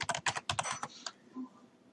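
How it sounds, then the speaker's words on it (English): Rapid keystrokes on a computer keyboard while setting up Ubuntu 13.04 Linux, a quick burst of close clicks ending in a firmer key press, then near silence. "hit enter on your keyboard."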